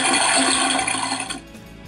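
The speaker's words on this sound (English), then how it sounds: "You can flush the toilet." Barbie Dreamhouse toy toilet from the 2013 three-story playset flushing: a loud electronic whooshing flush sound that runs for about a second and a half, then fades abruptly to quiet.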